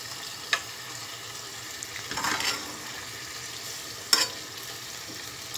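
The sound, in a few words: water added to sizzling frozen meat in a pan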